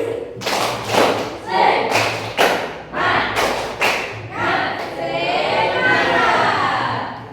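A high school class claps out a rhythmic spirit clap in a classroom, loud sharp bursts in a patterned sequence, followed by a longer stretch of mixed clapping and voices.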